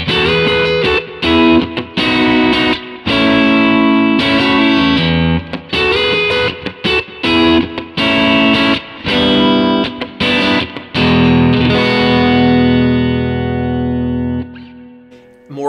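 Electric guitar played through a Kemper profile of a tweed amp, with strummed chords and picked phrases ringing out in a driven, slightly distorted tone, loud and close. A sustained chord lets the sound fade into silence at the end.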